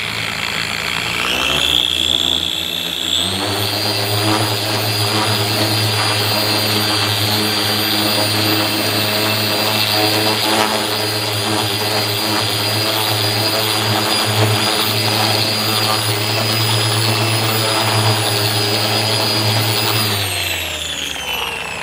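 Electric power sander running steadily on epoxy resin with 2000 grit and a light water mist, a loud continuous whine that revs up at the start and winds down at the end, with no voices.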